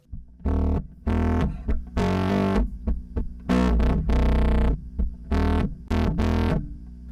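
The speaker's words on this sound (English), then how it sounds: "Let's try to put this distortion. Let's go stereo." Mono bass notes run through distortion with stereo delay, a series of short punchy distorted tones in an uneven rhythm, loud and up front with no talking.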